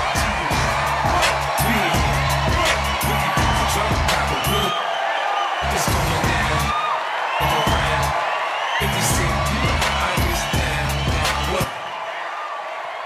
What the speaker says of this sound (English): Put your hands together for my brother in comedy.